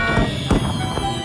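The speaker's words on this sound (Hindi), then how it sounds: "आतिशबाजी के लिए धन्यवाद" Fireworks crackle and pop in a dense, loud burst, with sharp bangs layered over a continuous hissing wash at the end of a geometric-shapes food challenge.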